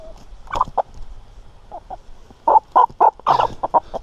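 Several chickens cluck and squabble while eating a mouse, sending out short, sharp bursts that come in quick clusters and sound close and loud.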